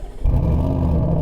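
A car engine cranks and catches, then settles into a steady, loud, close idle rumble with its exhaust valve open.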